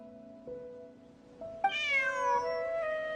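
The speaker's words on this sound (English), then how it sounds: "Bonnie is Pierre's cat." Bonnie, a cat in the video game Genshin Impact, gives a drawn-out meow with a falling, wavering tone over soft game music, close and clear.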